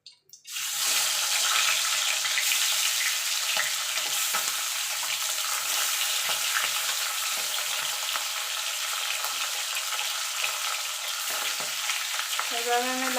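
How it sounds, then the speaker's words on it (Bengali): Bhetki fish bones frying in oil give a loud, continuous, close sizzle that starts abruptly and holds steady throughout, with no talking. "লাল লাল করে সব বাকি কাঁটাগুলো ভেজে তুলে নেব"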